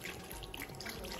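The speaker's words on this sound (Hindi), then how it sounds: "थोड़ा पानी कम लग रहा है तो मैं थोड़ा बोतल से पानी डाल देता हूँ" Water poured from a bottle into a cooking pot holding snails in a village kitchen, a short, continuous splashing trickle heard up close.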